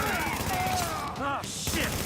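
Rapid gunfire from a shooter video game, The Division, sounding as dense continuous bursts loud and close, with a voice shouting over the shooting.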